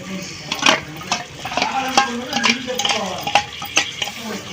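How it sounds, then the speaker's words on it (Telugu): Coconut and poppy seed paste frying in a pan, a loud close sizzle broken by repeated rhythmic scrapes and clinks of a spoon stirring against the metal. "ఇప్పుడు ఈ పేస్ట్ కూడా పచ్చి వాసన పోయేదాకా వేపుకోవాలి"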